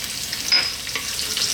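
Fresh curry leaves dropped into hot sunflower oil in a pan, a bright, steady sizzle and crackle that stays close and loud throughout, with no talking.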